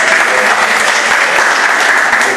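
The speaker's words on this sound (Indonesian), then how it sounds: "ini Pak Yusril tepuk tangan" Congregation applauding at a church anniversary celebration in Jakarta, loud dense clapping from many hands sustained throughout, with voices faintly mixed in.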